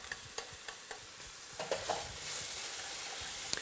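Carrots tipped into leeks sweating in fat in a pan, with a few sharp clicks of utensil against pan and then a soft, steady sizzle that swells and holds close by.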